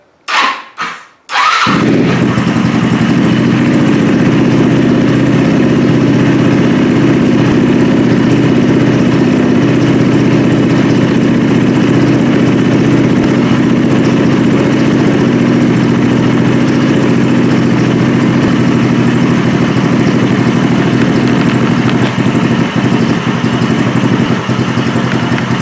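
A small gas engine fueled with Seafoam starts after a few brief attempts, then runs loud and steady for more than twenty seconds with a rough, strained tone.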